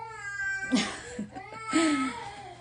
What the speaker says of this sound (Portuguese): Vocês estão ouvindo um chorinho? A minha bebê acordou